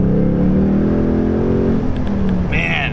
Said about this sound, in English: I don't know if you guys can hear that stock exhaust thing.